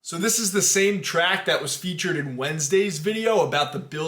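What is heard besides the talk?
No distinct noise like a dog, phone or traffic.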